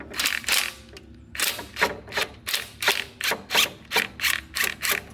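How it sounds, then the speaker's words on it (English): Bolt Breaker 3000 impact wrench rated at 800 foot-pounds breaking bolts loose beside a Miller generator/welder: a rapid train of sharp, loud hammering bursts in regular pulses, about a dozen in five seconds, with no talking. "I'm about to hit it with the Bolt Breaker 3000"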